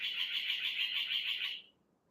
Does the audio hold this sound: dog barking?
no